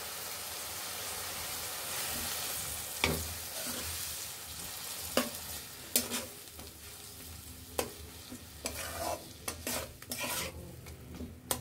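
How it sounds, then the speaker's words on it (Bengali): Spices for a bean curry sautéing in a pan with a little water, a steady soft sizzle broken by several sharp scrapes and clinks of a spoon stirring against metal, close and without talk. "হালকা জল দিয়ে মশলাগুলো ভালোভাবে কষিয়ে নিতে হবে।"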